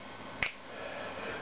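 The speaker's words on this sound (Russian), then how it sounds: "Ну как щелчок пальцами." One crisp finger snap rings out alone against a quiet room background.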